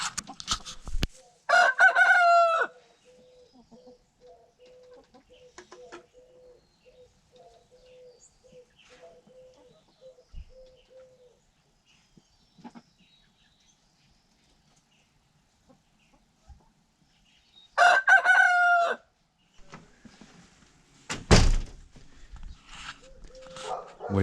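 Backyard chickens cluck softly and a rooster crows loudly twice, near and clear, against a quiet background, with a person speaking briefly.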